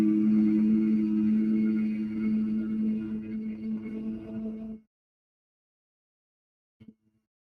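A single person hums on a long, steady out-breath during yoga breathing practice, the tone lasting nearly five seconds before fading into silence, with a faint short sound afterward.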